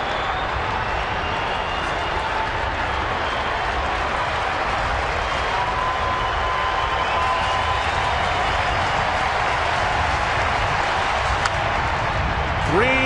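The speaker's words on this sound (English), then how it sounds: "the fans have been standing throughout this 9th inning. All they can do now is cheer louder" A standing baseball crowd in the ninth inning of a Detroit Tigers at Minnesota Twins game, a dense sustained roar of cheering and clapping that fills the whole stretch while a commentator talks over it.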